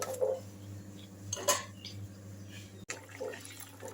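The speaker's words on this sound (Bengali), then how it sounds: "একটু জল দিয়ে ভালো করে নাড়াচাড়া করে দিচ্ছি।" A splash of water goes into an orange chutney in a pan, followed by close clinks and scrapes of a spoon stirring against the pan, with one louder burst of clatter partway through.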